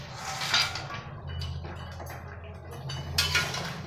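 Fish and lentil dumplings dropped into a boiling cauliflower-potato curry, heard as faint clinks of utensils and pots over a low bubbling rumble, with sharper metallic clatters near the start and end.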